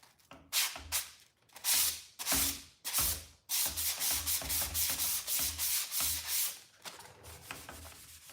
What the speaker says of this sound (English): I'm going to wrap my sanding block